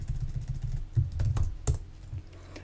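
Steady typing on a computer keyboard as code is entered into a Vim editor buffer, a run of quick soft keystrokes with a few sharper taps, close and alone with no talking.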